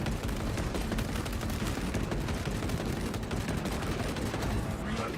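Continuous heavy bolt rifle fire in the Space Marine video game, a dense, unbroken roar of rapid shots and blasts that fills the whole stretch at steady loudness.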